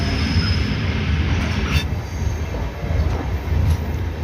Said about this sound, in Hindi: लगभग 30 किलोमीटर की दूरी तय करने के बाद हमारी द्वारका एक्सप्रेस पहुंच चुकी है